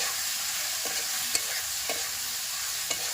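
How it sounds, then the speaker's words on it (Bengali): Spiced potato and egg curry is stirred in a pan with salt, turmeric and chilli powder, giving a steady soft sizzle broken by a few sharp spoon scrapes and taps against the metal. "ভালো করে নেড়ে চেড়ে নেবো।"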